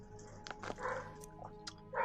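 A pet dog barks and yips in short bursts close by in a room, rising over a low steady background hum.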